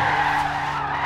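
Tires skid continuously as an Alfa Romeo Giulietta spins in a tight circle in the Forza Horizon 5 racing game, a loud, steady screech over engine drone.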